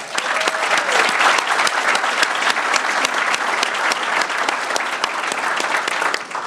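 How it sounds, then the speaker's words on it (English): Audience applause at a Simmons Bank branch ribbon cutting at the Urban League of Metropolitan St. Louis, loud and dense clapping from a crowd held steady throughout, with a faint voice briefly audible. "I think that deserves a round of applause."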